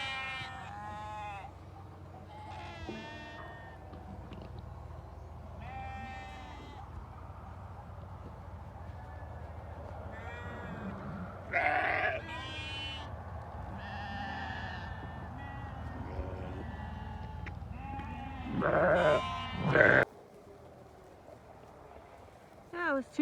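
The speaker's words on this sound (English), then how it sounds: "Sheep are out at the neighbors." Sheep bleat intermittently in a farm setting, several calls spread across the stretch, some louder and nearer, against quiet outdoor background with a person talking softly at times.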